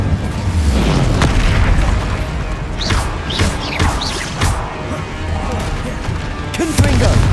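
Fire and combat spells burst repeatedly in the Hogwarts Legacy video game, loud booming impacts and crashes with whooshing streaks, dense and continuous, with a voice shouting spell names between them.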